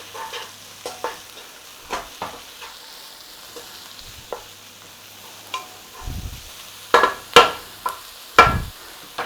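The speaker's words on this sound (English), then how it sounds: "A nice little sizzle whizzle on there." Onions with a little salt frying in a pot for a creamy chicken and lentil coconut curry, a steady soft sizzle broken by scattered stirring clatters and a few louder scrapes near the end, with no talk.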